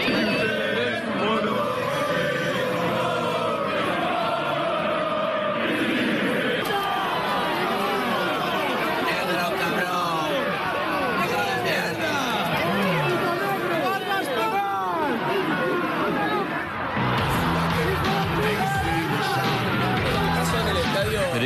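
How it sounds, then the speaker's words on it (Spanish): A football stadium crowd at a Valencia match in Spain roars and chants continuously, hurling insults. The dense, loud babble of many voices carries on without a break throughout, with nearer voices speaking over it. "Fica chamando o Vini, aí ó, fica chamando o Vini toda hora de macaco"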